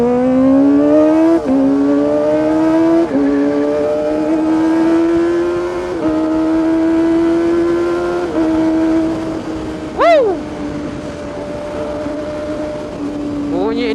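A Triumph motorcycle engine revving on the road nearby, its droning tone climbing and shifting pitch through several rises, with a brief sharper whine near the end, all over steady wind rush.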